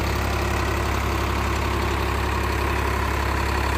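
A tractor engine, a John Deere 5210 Gear Pro or a Sawraj 744, idles steadily and loudly up close with a constant low throb and no voices.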